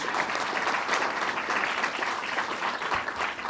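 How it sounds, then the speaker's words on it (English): Steady, dense applause from a large audience at a climate change event, sustained clapping without a break throughout. "Let's give him a round of applause."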